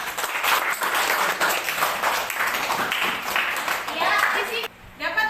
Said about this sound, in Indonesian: Sekarang beri tepuk tangan untuk kita semua.